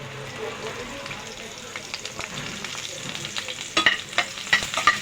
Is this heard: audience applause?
no